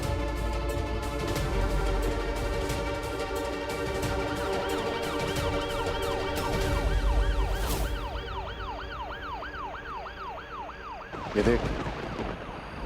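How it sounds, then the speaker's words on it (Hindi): A wailing siren rises and falls repeatedly over a busy, noisy scene, with a brief spoken phrase near the start and a loud burst toward the end. "सायरन की आवाज सुन रही है?"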